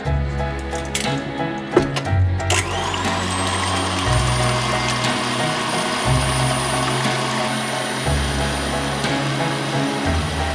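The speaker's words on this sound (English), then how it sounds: "and I whisk these together." Eggs and caster sugar beaten together by an electric whisk, a loud steady motor whine with a brief clatter as it starts, then running on without a break.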